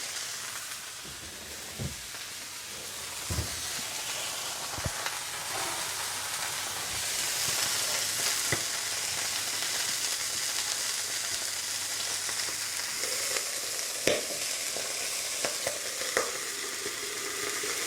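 Smash burger patties sizzle and steam loudly on a flat griddle for a Big Mac-style smash taco, a steady frying hiss with occasional sharp clicks and scrapes of a spatula, no talking.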